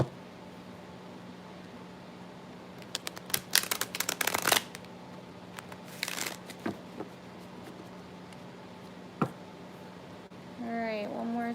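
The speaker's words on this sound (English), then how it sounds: "Trying to make sure these are shuffled really good this time." Tarot cards being shuffled by hand in two dense, crisp riffling bursts, the first lasting over a second and the second shorter, with a few isolated taps and a steady low hum throughout.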